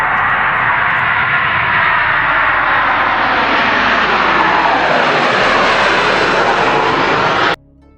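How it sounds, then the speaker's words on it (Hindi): A passenger airliner on its takeoff run, Air France Flight 296Q, gives a loud, steady engine roar that swells and climbs in pitch for several seconds, then cuts off abruptly near the end. "सारे रोल ऑफ प्रोसेस ख़त्म होने बाद इस प्लेन ने टेक ऑफ कर लिया"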